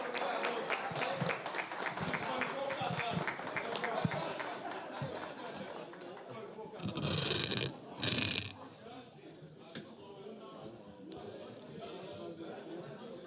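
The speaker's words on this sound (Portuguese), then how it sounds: "Muito bem, vamos aplaudir de pé." A crowd rises for a standing ovation at a Semana Farroupilha gaúcho celebration, dense sustained clapping filling the first several seconds, then thinning, while voices talk over it.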